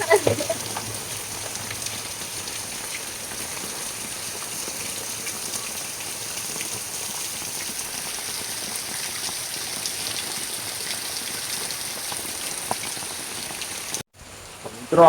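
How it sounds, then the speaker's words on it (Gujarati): Steady rain patters down continuously for about fourteen seconds, a dense even hiss with no voices, then cuts off abruptly near the end. "વરસાદ આવી ગયો"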